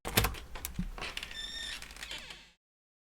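A dubbed door sound effect for a Thai fan dub of the film Wonder: a thump followed by a creaking, sliding door movement with a faint squeak, fairly close, ending abruptly in silence.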